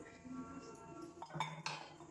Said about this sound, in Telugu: మూత పెట్టేసుకున్నా.